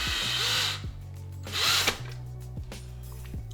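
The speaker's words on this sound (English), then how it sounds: "look at me using a drill" A power drill whirs in two short bursts, loud and close, with brief clicks and mechanical clunks between them.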